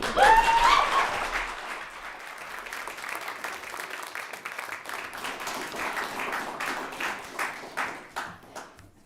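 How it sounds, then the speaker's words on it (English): Audience applause at a poetry recitation competition, a sustained wash of many hands clapping that swells at the start, then holds steady and thins into scattered claps toward the end. "Let's give all of the competitors a round of applause"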